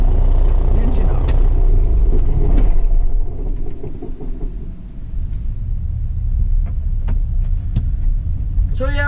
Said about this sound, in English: Engine off.